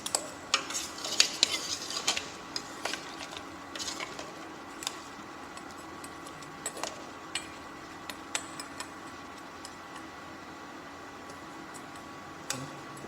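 A stew is stirred in a pot with a run of light metallic clinks and taps of a utensil against the pot, busiest at the start and thinning out later, quiet and close, with no talking.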